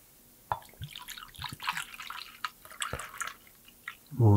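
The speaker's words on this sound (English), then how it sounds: "I'm going to start with 4 ounces of vodka" Vodka poured into a measuring cup for a pear martini, soft splashing and dripping liquid for several seconds, faint and close, ending in a louder clunk.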